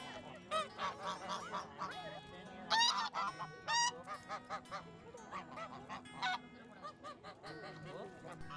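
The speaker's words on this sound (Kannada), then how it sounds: "ಇಲ್ಲಿ ಗೂಡಲ್ಲಿ ತುಂಬಾ ಬಾತುಕೋಳಿಗಳುಂಟು" Ducks at Wadi Al Bat in Muscat honk and quack repeatedly at close range, in loud bursts of overlapping calls across the whole stretch, with short gaps between the bursts.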